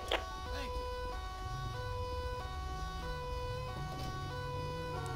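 A Dutch fire-service ambulance siren in GTA 5, its wailing tone rising and falling steadily over a low engine rumble, fairly faint and continuous throughout.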